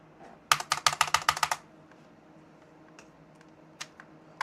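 A fast burst of about a dozen crisp clicks on a computer keyboard, then silence broken by a few scattered single keystrokes.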